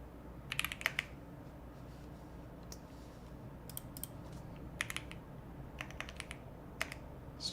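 Rapid keyboard typing during a TypeRacer race, with irregular bursts of crisp key clicks over a low background hum, fairly quiet and without talking.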